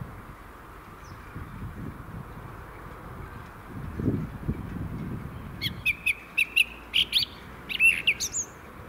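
A small bird sings from an apple tree in a spring dacha garden, giving a series of short bright chirps and tweets in the second half, moderately close, over low outdoor rumble and background hiss.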